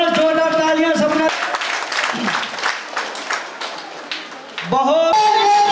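Audience applause at a company's second anniversary celebration, a burst of clapping that rises between stretches of loud amplified music, the claps fairly faint and mixed under the music.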